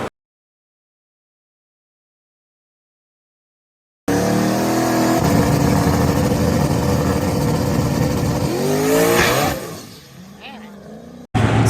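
After about four seconds of silence, a drag racing car makes its run down the track. The engine roars loud and steady for several seconds, then drops off as the car lifts. A short burst returns at the very end.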